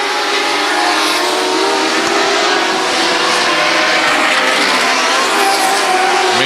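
Modified race cars and mod lite sprints powering down the back straightaway of a dirt oval, a loud, continuous engine roar with layered revving that holds steady throughout, no voices over it.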